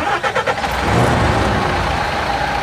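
A MAN A 21 bus's diesel engine is cranked and fires up, with a few rhythmic starter pulses giving way to a loud, steady, rumbling idle.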